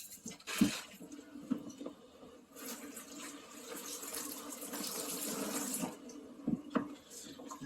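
Water gushing out of an opened PEX plumbing line during a valve installation, a fairly steady rushing flow with a few splashy surges and clunks nearby.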